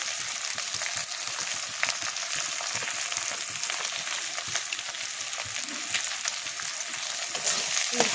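Turmeric and chili powder sautéing in a pan for a kochur loti and prawn curry, a steady close hiss of frying oil with faint scraping from stirring throughout, no voices.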